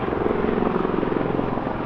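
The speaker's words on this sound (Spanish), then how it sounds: "me dio por grabar justo con el helicóptero" Helicopter flying over an upscale residential neighbourhood in Vancouver, a steady loud rotor drone with rapid rhythmic chopping pulses, continuous and close throughout without any talk.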